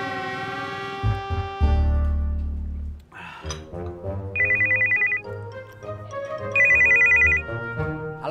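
A mobile phone ringtone rings out in repeated bursts while a call is being placed on a handset, preceded by a low hum and a short electronic tone.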